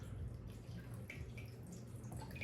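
Water poured from a can onto a potted jade plant, a steady soft trickle and splash soaking the soil, fairly quiet and continuous.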